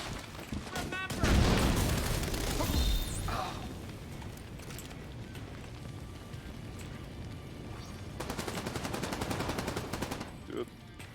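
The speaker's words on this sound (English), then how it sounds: "That's the shotgun." Shotgun fire in the video game Division 2, several heavy booming blasts in quick bursts early on, followed by quieter rattling gunfire and another cluster of shots later, with faint voices mixed in.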